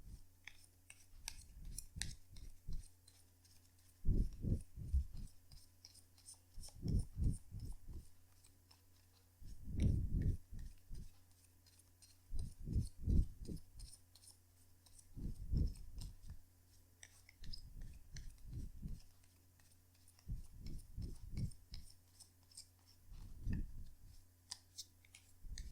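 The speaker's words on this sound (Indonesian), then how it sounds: "kartunya dikocok dulu sebelum kita mulai" Tarot cards being shuffled, bursts of crisp riffling clicks in repeated short rounds separated by pauses, close and fairly quiet over a low steady hum.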